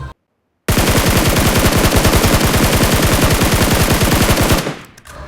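Automatic rifle fire in the mobile battle-royale game PUBG Mobile: after a brief silence, one long, loud, rapid burst of evenly spaced shots rattles for about four seconds, then cuts off.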